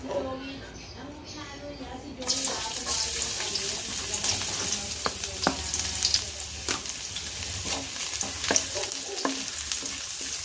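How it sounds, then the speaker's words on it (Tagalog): Onion and garlic are sautéed in cooking oil for fried rice. A loud, steady sizzle with stirring scrapes starts after about two seconds, and talking is heard near the start. "igigisa natin mga idol yung sibuyas at bawang"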